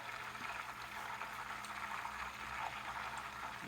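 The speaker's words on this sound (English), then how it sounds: "how that butter should boil" Butter bubbles and sizzles in a pan as it browns for chocolate chip cookies, a steady close frying hiss with no breaks.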